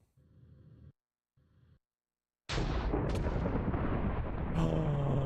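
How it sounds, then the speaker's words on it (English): A lightning strike in Minecraft's Sky Factory 4 modpack: after two muffled low rumbles and a brief silence, a sudden loud crack bursts into a long, roaring crash that rolls on to the end. "I think I escaped the lightning."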